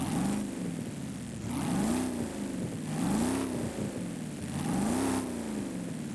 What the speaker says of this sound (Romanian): Motorul ăla vechi.